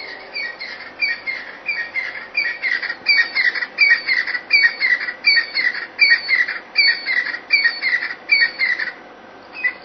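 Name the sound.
recorded francolin call played back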